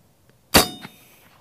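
An air rifle pellet strikes a steel gong target with one sharp metallic clang and a short ringing decay, then a fainter second knock; the surroundings are otherwise quiet and nobody speaks.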